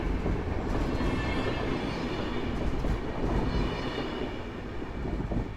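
A train departing Sosnowiec Główny station rumbles steadily and fairly loudly, with a dense rolling roar and faint wheel clatter holding throughout.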